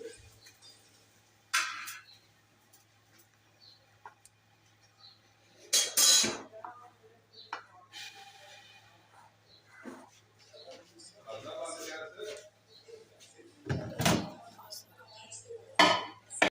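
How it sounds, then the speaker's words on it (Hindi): A utensil clinks and scrapes against a bowl while ingredients with chili and cumin are mixed, giving intermittent sharp clatters separated by quiet gaps, with a faint steady hum underneath. "और फिर इसको अच्छी तरह से मिक्स कर लेंगे।"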